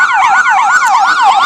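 An emergency vehicle siren wails loud and close in rapid, regular up-and-down sweeps, filling the moment with no other sound.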